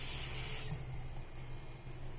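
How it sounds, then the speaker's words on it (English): Tap water runs into a kitchen sink while a Ninja Foodi Smart XL Pro air oven is being cleaned. The stream is steady and close, then cuts off partway through, leaving a quiet room hum. "let's get a little bit of water."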